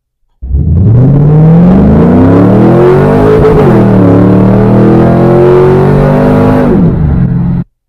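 A car with newly installed 3.90 rear gears accelerates hard and loud, its engine revving upward, then the pitch drops abruptly as it shifts awkwardly before climbing again, close and continuous for about seven seconds.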